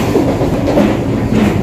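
Vande Bharat Express train 22227 on the Guwahati to New Bongaigaon run, heard as a loud, continuous, shaking rumble with faint rail clatter and no voices.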